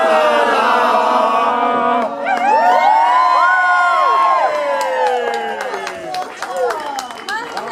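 Wedding welcome dinner guests burst into loud cheering, whoops and clapping after a sung toast to the bride and groom, a dense crowd roar with scattered shouts that stays strong throughout.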